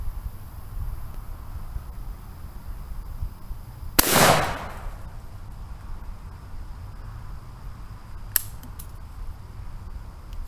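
A single sharp .410 gauge shotgun shot fired outdoors at the base of a dead tree, a loud crack with a short noisy tail over quiet background, followed later by a faint click.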